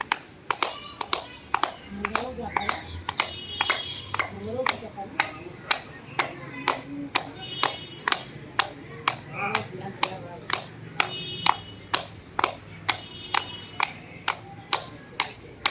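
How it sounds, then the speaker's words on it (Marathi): Loud, sharp hand claps repeat in a steady, fairly fast rhythm, about two per second, as part of a daily exercise routine, with a soft voice murmuring faintly underneath. "तर हाताच्या टाळ्या वाजवा जोरात"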